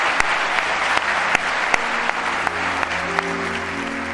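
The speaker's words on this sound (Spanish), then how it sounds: "Os pido un aplauso para estos 3 invitados" Steady applause from a television studio audience, a dense wash of clapping with a few sharper claps standing out, continuous for several seconds.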